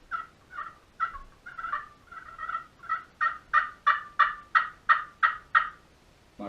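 A turkey call produces a series of short, sharp clucks, about a dozen in an even rhythm, growing louder and crisper toward the end.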